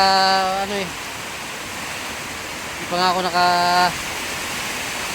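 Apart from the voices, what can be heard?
heavy rain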